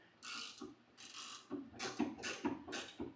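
Flex head ratchet wrench from a SUZUME set clicking in bursts while tightening a nut, several short runs of rapid pawl clicks with brief pauses between, close and clear, no talking.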